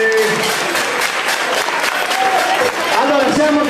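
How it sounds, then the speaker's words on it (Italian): Outdoor crowd applause for participants at a 2003 village carnival festival in Bonarcado, steady clapping throughout with crowd noise and some voices mixed in. "adesso un applauso per tutti quelli che hanno partecipato"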